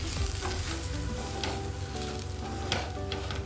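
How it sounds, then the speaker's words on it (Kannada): Dry bitter gourd fry crackles in a pan as it is stirred with peanut and dry coconut powder, a steady close sizzle broken by occasional scraping strokes of the spoon. "ಅದರೊಂದು 3 ಸ್ಪೂನ್ ಹಾಕಿ ಎಲ್ಲವನ್ನು ಚೆನ್ನಾಗಿ ಮಿಕ್ಸ್ ಮಾಡೋಣ"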